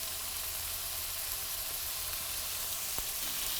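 Carrots frying in olive oil in a pan, a steady close sizzle with a faint scrape or stir partway through.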